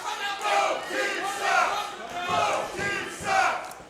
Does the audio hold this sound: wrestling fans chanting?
yes